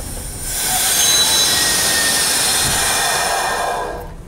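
A British train brakes, its wheels squealing in a long, loud, high-pitched screech with a hissing rush underneath, holding steady for several seconds before fading out.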